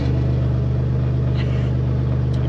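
Engine of a 1951 car idling with a loud, unclamped exhaust, a deep, steady, throbbing rumble that stays close and continuous throughout.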